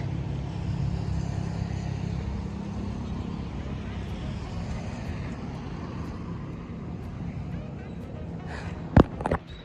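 A Hero XPulse 200 Rally Edition motorcycle rides along with a steady, low engine and wind rumble, and a sharp knock sounds near the end.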